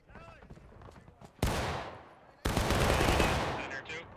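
Two loud massed musket volleys crack out in War of Rights during a pontoon river-crossing attack, each a sudden broadband roar that rolls on, the second sustained longer, with faint voices underneath.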